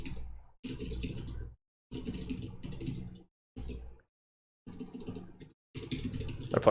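Bursts of keyboard typing on a computer, several rapid runs of key clicks split by short silences, close and fairly loud with no talking.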